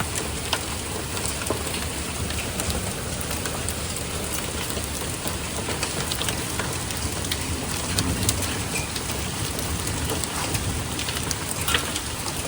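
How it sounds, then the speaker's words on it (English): A hailstorm with rain pours down steadily, a dense loud hiss of drops and pellets striking surfaces for the whole stretch, with no clear thunder standing out. "I will try to insert the video of the hail here."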